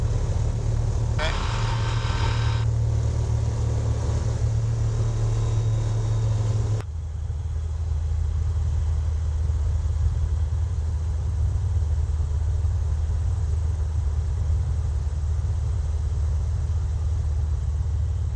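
Rans S-7 Courier light aircraft engine at full throttle, a loud, steady drone that holds constant, then drops in tone partway through, with voices heard briefly early on.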